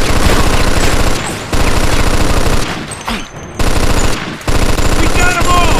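Loud, rapid machine gun fire from an open world game on PS3 rattles in long bursts with short breaks between them.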